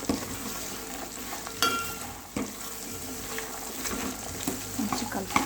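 Makhana (fox nuts) fry in hot oil in a pan while being stirred, a continuous loud sizzle broken by scraping and clinking of the spoon against the pan, with no talking.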